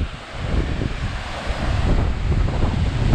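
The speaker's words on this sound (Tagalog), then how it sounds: "lalo na ngayon mahangin, lakas ang hangin, mataas ang alon" Strong wind buffets the microphone while waves surge and crash nearby, a loud, continuous roar that swells toward the end.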